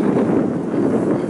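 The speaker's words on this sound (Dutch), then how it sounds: "de wind waait ook best wel" Wind gusts outdoors in a park after storms, a steady close rumbling buffet heard on its own.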